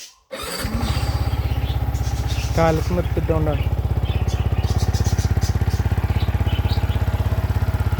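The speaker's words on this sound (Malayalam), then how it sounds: "അപ്പോൾ വണ്ടി സ്റ്റാർട്ട് ചെയ്യാം" A motorcycle engine catches after a brief silence and settles into a loud, steady close idle with a regular throbbing beat, while someone speaks briefly over it.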